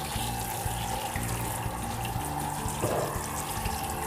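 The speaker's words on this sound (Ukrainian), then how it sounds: "зараз ми знову змиваємо її водою ретельно" Tap water runs steadily at a groomer's sink, rinsing a soaped dog during a bath, with a constant splashing rush throughout and a brief louder surge near the end.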